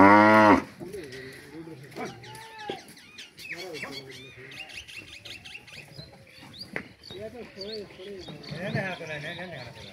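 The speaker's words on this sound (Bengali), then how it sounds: "এই যে কিছু গাভী শুয়ে আছে।" Cattle on a farm, with cows lying in a herd shelter, give drawn-out moos and calls at close range, interleaved with someone talking and some faint bird chirps.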